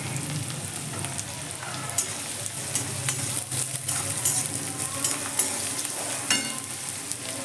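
Chopped onion and carrot fry in oil in a pan while making spiced vegetable semolina, giving a steady close sizzle with scraping and stirring clatter throughout.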